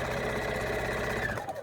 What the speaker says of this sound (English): So I'll just keep sewing these together.